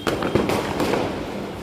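Diwali firecrackers burst close by in a dense run of loud, crackling pops and bangs that keeps going without a pause for the whole moment.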